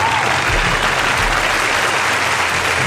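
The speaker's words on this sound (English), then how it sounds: "give him a big round of applause right there." A studio applause sound effect plays on a talk radio show, a thick, even burst of clapping that fills the whole stretch without any talk over it.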